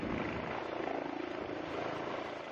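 A trauma helicopter comes down to land on a bridge in Amsterdam, its rotor giving a loud, steady throbbing whir with a fast, even pulse that stays close throughout.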